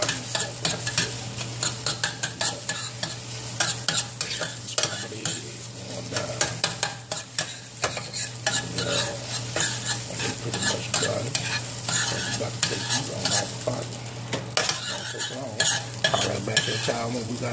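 Eggs fry in butter in a skillet with a steady, dense sizzle that runs throughout, broken by frequent scraping and clinking of a utensil against the pan.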